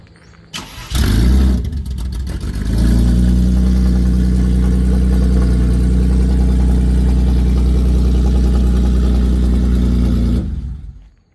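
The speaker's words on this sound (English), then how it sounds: "the car does run when it wants to" A 1991 Mercedes-Benz 300 E sedan engine cranks and catches, then runs at a steady, loud idle for several seconds before cutting off.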